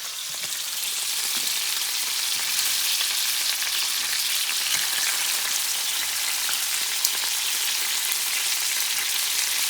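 Venison meat fries in oil in a pan with a constant, bright crackling sizzle, close and steady throughout, like light rain on a surface, with no talking.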